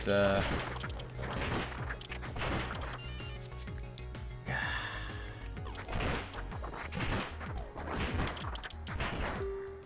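Repeated gunshots crack in uneven bursts while zombies are shot in a survival video game, with impact thuds and a voice talking over the firing.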